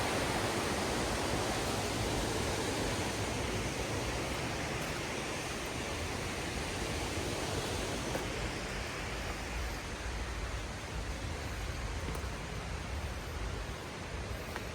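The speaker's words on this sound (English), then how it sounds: "I just love the sounds of the waterfalls." Waterfall on an outdoor trail, a steady broadband rush of falling water that holds even and moderately quiet throughout with no voices.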